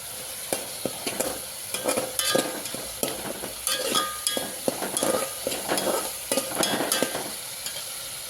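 Tomato, onion and masala fry in oil for a mutton dish, sizzling steadily while a spatula scrapes and clatters against the pan in repeated stirring strokes.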